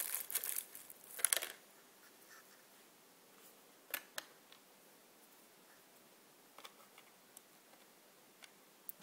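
Small black plastic screws dropping out of holes in a Formula De racing board game board, a cluster of light clicks and rattles at first, then sparse scattered ticks, faint and close in a quiet room.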